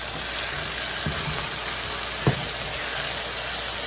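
Saltfish and okra sauteing in a pan for a Jamaican dish, a soft steady sizzle throughout with a couple of faint clinks, no talking.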